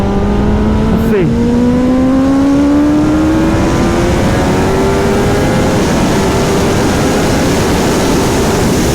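A 2021 Kawasaki ZX10R sport bike accelerating hard through the gears in a top speed run, engine note climbing steadily in pitch with one brief shift, loud and continuous over rushing wind noise.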